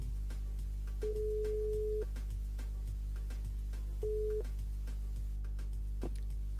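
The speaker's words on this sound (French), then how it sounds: "On rappelle Johanna sur le standard." A telephone line tone plays while a radio host calls a listener back through the station switchboard: two steady electronic beeps, one long and one short, over a constant low hum, with no voices.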